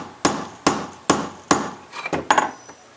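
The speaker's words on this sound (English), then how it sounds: "I'm going to tap on it with my mallet lightly" A mallet lightly taps metal while an alcohol stove is being made: about six close, crisp knocks at a steady pace, the last few coming quicker and softer.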